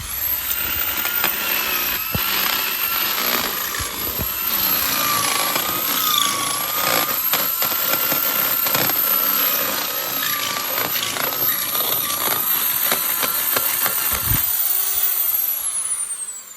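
A power drill with a larger bit boring a hole, a loud continuous whining grind that holds steady and then changes pitch near the end before a brief stop.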